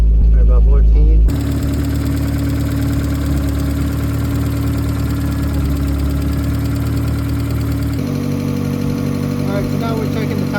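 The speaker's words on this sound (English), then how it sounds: "it's idling a little bit better now that it's warmed up" A turbocharged Mazda Miata engine idles steadily once warmed up, a close, even low drone with a constant mechanical hum that holds throughout, with an abrupt cut to a slightly different take partway through.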